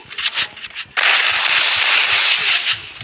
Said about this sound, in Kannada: ನೋಡಿ ಗೈಸ್, ಡಬಲ್ ಬುಲೆಟ್ ಫೈರ್ ಮಾಡ್ತಿದ್ದಾನೆ.